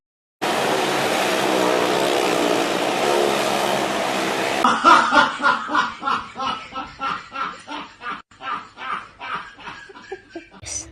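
Racing simulator game with a Lamborghini: a steady engine drone runs for several seconds, then gives way to a series of rhythmic, pulsing bursts like repeated revving or gear changes, fairly loud and alone.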